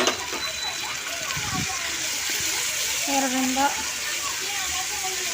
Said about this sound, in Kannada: ಇವಾಗ ನೋಡಿರಿ ಟೊಮಾಟೊ ಸೇರಿಸ್ಕೊತಾ ಇದ್ದೀನಿ